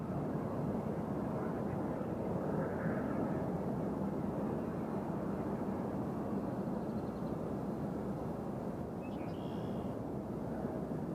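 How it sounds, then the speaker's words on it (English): A heavy aircraft approaches the runway at Nashville International Airport, heard as a distant, steady low roar with wind noise that holds throughout without a clear peak. "Here comes one of our heavy aircraft."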